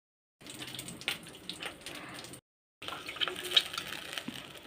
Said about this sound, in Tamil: புளி தண்ணி ஊற்றியாச்சு.